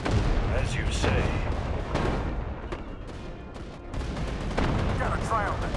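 Bursts of gunfire from newly acquired guns in an RTS war game pitting the USA against Japan, with sharp shots and booming rounds in a dense, continuous battle mix, crackling near and far throughout.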